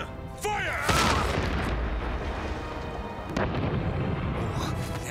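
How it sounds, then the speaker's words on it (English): Two loud booming blasts from cartoon cannons being fired at an old fort, the first near the start and a second about three seconds later, each trailing into a rumbling roar, with no talking in between. "Second cannon! Fire!"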